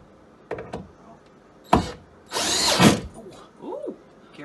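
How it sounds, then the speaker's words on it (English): A power drill drives a screw into a home rock wall, heard as a few short close bursts of whirring, the longest lasting about half a second, separated by quiet pauses. "Last screw is about to go in."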